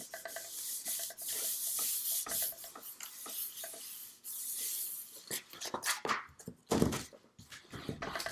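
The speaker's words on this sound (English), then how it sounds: "I'm going to burnish that down" Paper is rubbed down with a burnishing tool during a papercraft folio project, producing close, uneven scraping and rubbing strokes with short pauses and a few light knocks.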